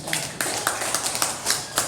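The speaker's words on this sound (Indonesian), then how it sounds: "Jadi kita kasih tepuk tangan yang sudah menjawab." Students applauding in a civics classroom, a short burst of quick, fairly close, loosely rhythmic hand claps lasting about two seconds.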